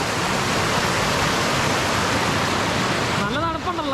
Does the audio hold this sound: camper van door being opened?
no